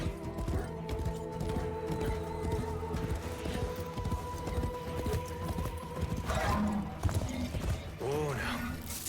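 Video-game horse hooves clatter in a fast, steady clip-clop rhythm, with a whinny and some mechanical creaks, while a player talks over them.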